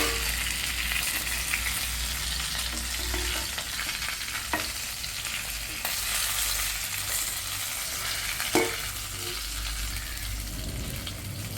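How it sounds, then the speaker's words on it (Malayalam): Curry leaves spluttering and sizzling in a hot pan on a steady, close bed of frying noise, with a couple of sharper pops standing out. "നമുക്ക് ആദ്യം തന്നെ കുറച്ച് കറിവേപ്പില ഇട്ട് കൊടുക്കാം. അതാണ് പൊട്ടിത്തെറിക്കുന്നത്."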